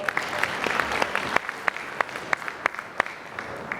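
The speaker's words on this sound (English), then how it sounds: "Can we give them a clap?" An audience at a presentation gives a round of clapping, with a moderate patter of many hands and a few sharp, loud individual claps standing out near the listener.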